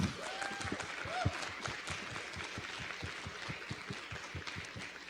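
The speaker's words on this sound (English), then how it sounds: "Can we give them, please, another round of applause?" An audience at a university lecture series gives lecturers a round of applause, heard faint and distant as a soft, continuous clapping texture with a few low thumps and a brief voice near the start.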